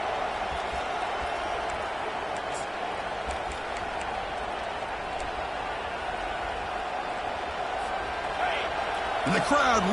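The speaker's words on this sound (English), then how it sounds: "And the crowd really making some noise now, trying to help out this defense to get this stop near the goal line." Football stadium crowd roaring and cheering as the defense tries for a stop near the goal line, a steady dense wall of noise throughout that swells slightly near the end, with commentary voices talking over it.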